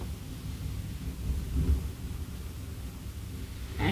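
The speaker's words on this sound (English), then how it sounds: "I hope you can't hear the wind outside because that's just suddenly gone crazy. I think it's tanking it down as well." A steady low roar of strong wind and heavy rain heard from indoors, muffled and continuous, swelling briefly in a gust midway, with no talking.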